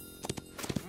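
A few quick hoof clops sound in a short burst, with a soft low neigh-like tone mixed in, brief and fairly faint.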